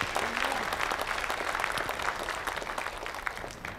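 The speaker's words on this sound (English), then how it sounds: "Give the Lord a hand clap in Jesus' name." A church congregation gives a hand clap during a sermon. Steady, dense applause from many people is heard close and loud, tapering slightly near the end.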